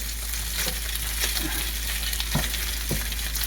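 Cottage pie filling stirred and broken up with a spatula in a pan: a steady broad frying hiss under soft intermittent scrapes and taps of the utensil, continuous and fairly close.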